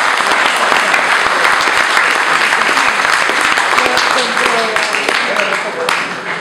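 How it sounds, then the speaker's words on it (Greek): A hall audience at a Greek tribute event gives sustained loud applause, a dense wash of close clapping that continues steadily throughout with a few faint voices mixed in. "Ο Χαλδέζος είναι εδώ, χειροκροτήστε τον"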